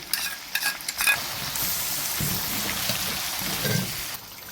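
Steady sizzling of garlic ginger paste frying in a pan, with occasional scraping stirs and clinks, continuous and close with no talking.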